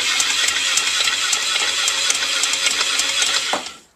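A four-stroke engine converted to run on steam chugs quickly and evenly, loud and close, as a constant rhythmic clatter that dies away abruptly at the very end.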